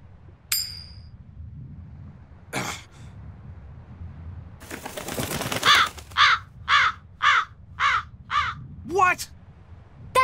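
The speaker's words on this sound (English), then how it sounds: "That crow just flew off with the coin!" A crow in Tales of Berseria caws in a rapid series of five or six harsh calls, near and loud, following a clink of a coin and other game sounds.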